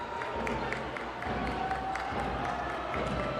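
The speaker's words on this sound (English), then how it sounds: "The crowd is on their feet. All the Idolo fans on the feet, ready to cheer on their team." Futsal fans cheering at the Ontario Futsal Cup men's final, a steady roar of crowd noise with scattered claps and whistles, loud and continuous throughout.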